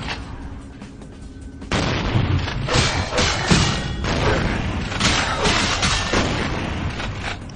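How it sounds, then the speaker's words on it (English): Shotgun blasts and heavy booms ring out in Vampire The Masquerade Bloodlines, several loud thuds in quick succession over busy game noise after a quieter opening. "Oh shit, he's got a shotgun."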